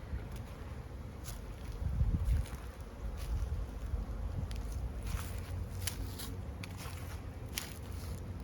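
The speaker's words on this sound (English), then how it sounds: "the first thing to look at is to see if there are bees coming in and out of all the hives" Honey bees fly in and out of their hives on a mild late-February day, a soft, scattered buzzing with occasional louder passes near the microphone over light wind noise.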